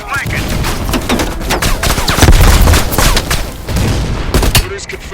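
Heavy automatic machine gun fire in the Call of Duty: Black Ops Cold War game crackles in dense, rapid bursts with booming impacts, loud and close, while voices talk over the shooting.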